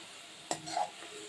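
A spoon scrapes and knocks once against a pan while stirring a sugarcane jaggery filling, a short clink followed by a brief scraping stroke over a quiet background.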